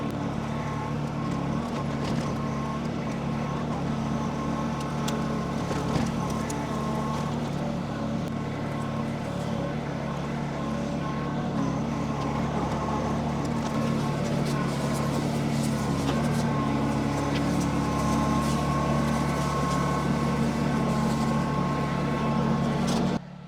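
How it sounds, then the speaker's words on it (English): A 25 HP Summit compact tractor works among pine trees, its engine droning steadily and continuously throughout, a close, constant mechanical hum with occasional clanks over the top. "This Summit is a nice sized tractor for getting in these tight places"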